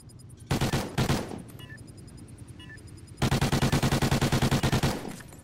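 Call of Duty Ghosts gunfire: two short loud bursts early, then a long rapid automatic volley of evenly spaced shots near the end, with quiet game ambience between.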